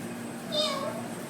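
A child imitating a cat's meow, one short rising-and-falling vocal mew near the middle, close and fairly soft over a low background hum.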